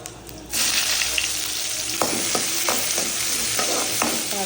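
Chopped onions drop into hot oil with whole spices and sizzle steadily, with a loud continuous frying hiss and a few sharp crackles and stirring clinks, for a mutton gravy.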